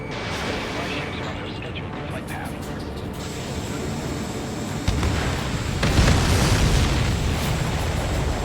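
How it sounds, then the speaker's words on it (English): An enemy aircraft explodes in the Ace Combat 7 flight game, a loud, heavy boom rolling over constant roaring engine and battle noise, with the blast swelling midway and sustaining to the end. "Did you see that explosion? Looks like that's one of them down."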